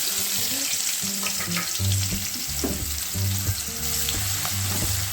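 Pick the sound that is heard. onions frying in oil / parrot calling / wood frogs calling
onions frying in oil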